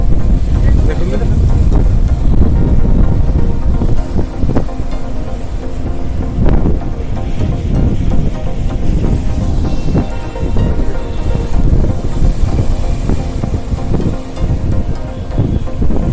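Big, loud sea waves at Paradeep crash against a stone embankment and throw up spray, making a continuous heavy roar close by with repeated surges.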